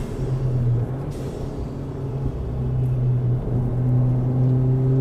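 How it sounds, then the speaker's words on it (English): Interior drone of a full bolt-on Ford Fiesta ST while driving on the street: a steady low exhaust hum that swells and eases as the engine changes speed, close and continuous. "I'm really happy with this exhaust setup. There's not too much drone for what it is."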